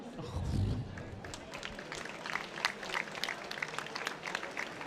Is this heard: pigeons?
no